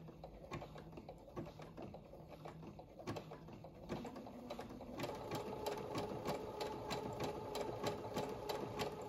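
A household sewing machine runs with a triple needle, its steady, rapid stitching clatter close and continuous, growing somewhat louder and denser partway through with no talk over it.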